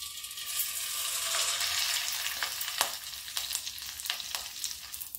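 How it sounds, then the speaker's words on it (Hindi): Spoonfuls of maida papad batter hit hot frying oil, making a steady loud sizzle with bursts of crackling and popping as the batter fries, no talking. "ऑयल गर्म हो गया है, अब थोड़ा सा डाल के टेस्ट कर लेते हैं।"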